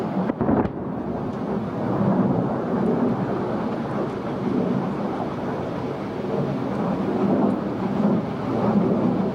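Distant heavy booming and rolling rumble of weapons dropped by military aircraft striking targets during a Pakistan Army firepower demonstration, a sharp blast at the start followed by a sustained thunder-like roar.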